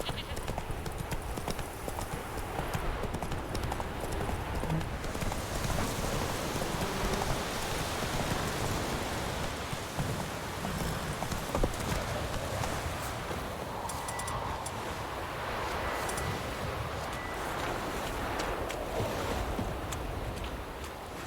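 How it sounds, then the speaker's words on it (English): A horse gallops in the video game The Witcher 3: Wild Hunt, rhythmic hoofbeats drumming steadily throughout over a wash of outdoor ambience, with game voices talking at times. "Run, Roach."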